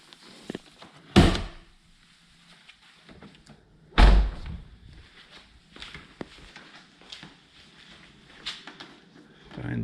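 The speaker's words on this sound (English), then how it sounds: "we'll get the hood open, make sure we don't smash the door into the wall" Hood of a 2019 Ford Mustang GT being opened in a garage, with two loud thuds of the hood latch and panel a few seconds apart, plus small clicks, knocks and handling sounds in a quiet room.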